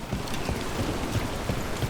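Steady rainfall in the fantasy game Dragon Age: The Veilguard patters continuously on surfaces, a close, even hiss with scattered heavier drops and faint low thuds underneath.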